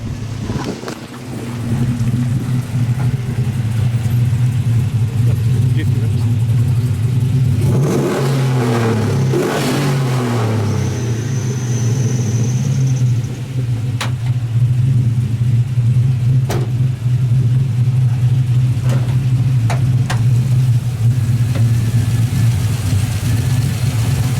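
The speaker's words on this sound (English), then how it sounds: "So he'll pull it around, get a few revs, and describe what we did." A crate LS 376 V8 engine of 525 horsepower in a Chevrolet Silverado pickup idles with a deep rumble, then revs hard in a couple of rising bursts before settling back to a loud, steady idle.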